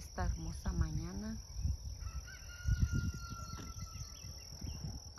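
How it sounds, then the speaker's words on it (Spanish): Rural morning outdoors beside a chicken coop under construction: birds call and honk at moderate distance, with a steady high insect drone and a brief human voice at the start. "con el cantar de los gallos"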